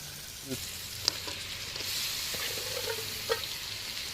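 Sardines frying in masala in a pan, giving a steady soft sizzle with a few light clinks and stirring scrapes, fairly quiet and close.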